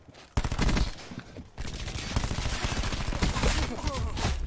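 Rapid bursts of automatic gunfire in a team deathmatch shooter game crackle loudly and continuously, with near-constant rattling shots and a voice talking over them.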